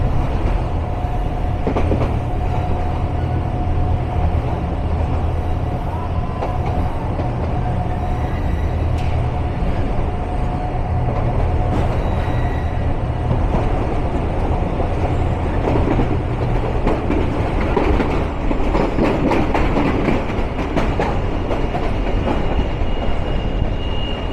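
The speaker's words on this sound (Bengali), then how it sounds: "ট্রেন প্রবেশ করলো তার প্রথম যাত্রা বিরতি স্টেশন তেজগাঁওয়ে।" Passenger train led by a class 27 locomotive runs on the rails toward Tejgaon station, with a steady loud rumble, rhythmic clickety-clack of wheels over rail joints and occasional faint squeals throughout.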